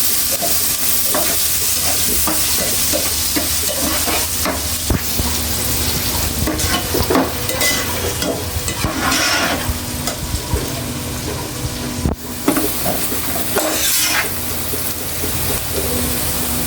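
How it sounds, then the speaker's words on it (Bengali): Onions frying hard in a pan for a fish curry, a loud, dense sizzle crackling throughout while a utensil stirs and scrapes at intervals, close by and with no voices. "এবার পেঁয়াজ দিয়ে"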